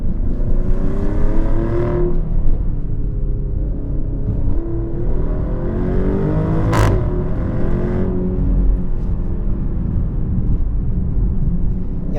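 A Maserati Grecale Trofeo SUV accelerating in sport mode on a winding road with below-zero pavement, loud in-cabin engine drone climbing through gears with shifts around two and seven seconds, continuous and close.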